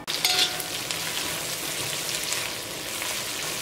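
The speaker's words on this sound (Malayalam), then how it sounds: "ഇപ്പോൾ സവോള ചെറുതായിട്ടൊന്ന് മൊരിഞ്ഞോടിയിട്ടുണ്ട്" Sliced onions frying in a pan for Kerala dum chicken biryani, a close, steady crackling sizzle with a brief louder burst at the start, heard alone with no talk.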